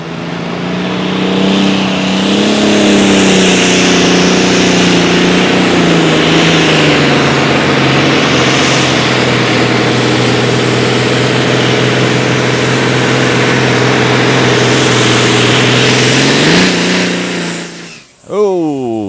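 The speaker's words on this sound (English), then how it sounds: "Ryan Boyson trying to grunt that rock sled down the track there" A Light Super Stock pulling truck's loud, strained engine roars steadily for a long stretch dragging a sled down a truck-pull track in Wisner, Nebraska, with a sustained drone and a high whine, then cuts off near the end.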